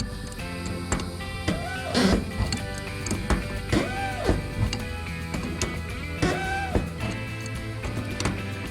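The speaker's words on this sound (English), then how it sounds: "I think what you're hearing there is the rubber O-rings inside" Faint squeaks and creaks from rubber O-rings deforming inside mini-split AC fittings as they are tightened, with scattered small ticks and clicks from the tools, quiet and close.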